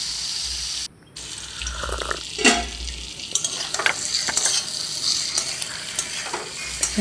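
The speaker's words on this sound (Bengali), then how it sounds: "ঢাকনা দিয়ে ভালো করে ফ্রাই করে নিচ্ছি" Round slices of pumpkin and teasel gourd frying with salt and turmeric in a pan, a steady sizzle broken by a brief dropout, then clattering stirs and lid knocks nearby, with no talking.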